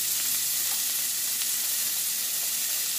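Onions sizzling steadily in a frying pan, a close, continuous hiss with no breaks.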